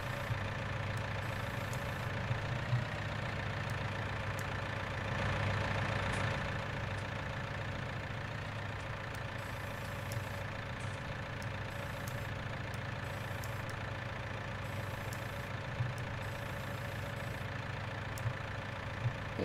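Tractor engine in Farming Simulator 19 hums steadily throughout, a constant mid-low idling drone with slight variations while hauling two bales on the front loader, no voices.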